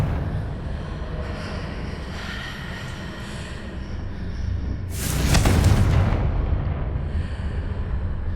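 A Confringo blasting curse in Hogwarts Legacy erupts midway as one bright, loud burst that fades slowly over a rumbling, rattling background.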